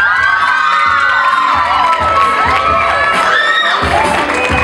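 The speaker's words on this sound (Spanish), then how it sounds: "vamos a recibir con un fuerte aplauso a Julián Bujaya." A large audience applauds and cheers as guests of honor are welcomed at an event, a loud, dense roar of shouts, whoops and clapping that holds steady throughout.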